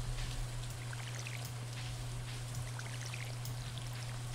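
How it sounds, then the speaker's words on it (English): Steady rain in the farming game Stardew Valley, a soft constant patter and hiss with faint scattered drips over a low hum, heard alone and fairly quiet throughout. "It's raining, actually."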